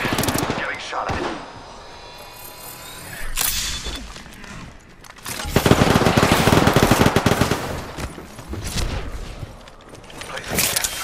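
Bursts of automatic gunfire and rapid shots in a battle royale shooter game, loud and repeated across the clip with a brief lull in the middle, mixed with game effects and faint voice.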